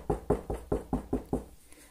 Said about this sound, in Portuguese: Então ela bateu mais uma vez.